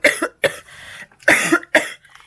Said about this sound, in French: Et je fais que de tousser.